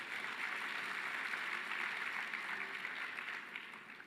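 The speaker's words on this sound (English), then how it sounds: "Give them a big hand of applause" Sustained applause from an audience at an education sector gathering, steady and dense throughout before easing slightly at the end, with no talk over it.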